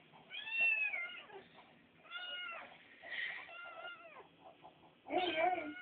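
A kitten meows several times in a row, with high, bending cries that come close and fairly loud, and a louder burst near the end. There is no speech.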